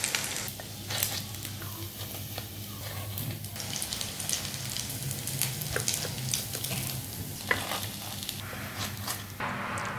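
Kebabs frying in hot oil give off a steady, close sizzle with scattered crackles and pops, heard alone for the whole stretch.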